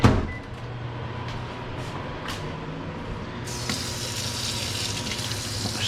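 Tap water runs steadily into a kitchen sink during chicken cutlet prep, a continuous close splashing wash that grows brighter and stronger partway through.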